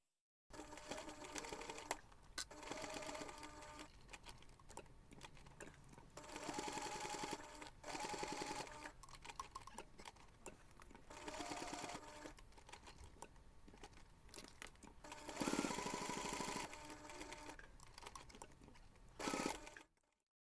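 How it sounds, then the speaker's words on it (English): Home sewing machine running in several short bursts as it stitches along all four sides of a small snap keychain pouch, quick rattling needle chatter close by, pausing between runs, with no voices. "take this to the machine and sew along all four sides"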